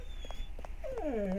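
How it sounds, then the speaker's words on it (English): A pet dog whimpers indoors, giving a few short soft whines and then a longer rising-and-falling whine near the microphone, heard over a low background hum. "I wonder how many of my videos you can hear my dog whimpering on"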